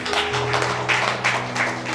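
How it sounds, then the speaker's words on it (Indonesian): A church congregation claps together during a Sunday sermon, a continuous wash of hands with a low held tone underneath and no voices over it. "Yang setuju tepuk tangan bagi Allah kita."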